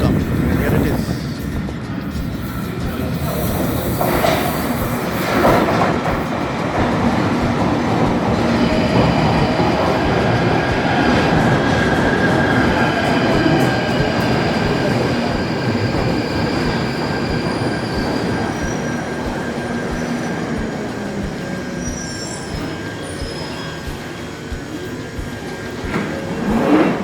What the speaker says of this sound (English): Currently this is Northern Line, so just waiting for the train to come.